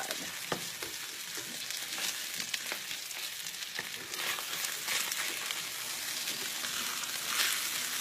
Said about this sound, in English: salmon's cooking along here, getting a nice sear on that skin side.